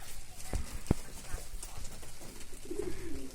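Breeding posta pigeons coo with a low, soft murmur near the end, after a couple of sharp knocks and thumps early on, over a faint, busy loft background.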